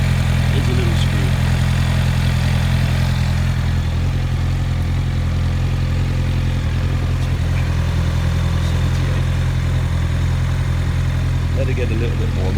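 A Honda CBR1100XX Blackbird motorcycle engine idles steadily at about 1200 RPM, a constant low rumble throughout with no revving.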